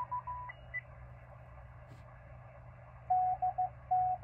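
Morse code CW signal received on an HF ham radio: a steady tone keyed into a few short dits and longer dahs, the longer elements near the end, over a constant hiss of band noise, alone with no voices.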